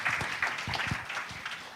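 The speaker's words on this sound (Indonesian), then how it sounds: "Semua percaya berikan tepuk tangannya yang kencang buat Tuhan kita yang baik." Church congregation clapping during a sermon, a brief burst of scattered hand claps of moderate loudness in a reverberant hall.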